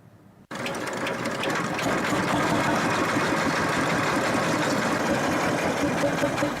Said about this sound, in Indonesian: disebut mesin giling portable yang merupakan gabungan dari beberapa mesin